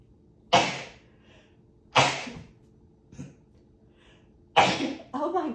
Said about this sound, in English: I'm typically a 3 sneeze person, but that was 4 sneezes.